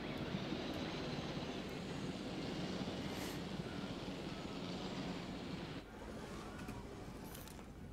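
Helicopter in the Jurassic World Evolution video game, a steady broadband rotor and engine roar that fills the whole clip at a constant level, dipping slightly near the end, with no talk over it.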